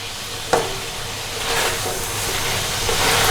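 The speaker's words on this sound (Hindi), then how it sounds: "अब हम इसको अच्छी तरह से इसमें भी भूनेंगे" Chicken masala with yogurt sizzles and fries in a pot while being stirred, a steady hissing bubbling with a sharp utensil clank early on and scraping stirs throughout.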